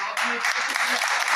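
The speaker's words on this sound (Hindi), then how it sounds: "बहुत तालियां इनके लिए।" A short burst of audience applause at a mechanic training session in Mansehra, brisk clapping from a small group, with a voice speaking over it.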